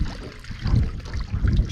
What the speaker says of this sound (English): Drain all that water in there.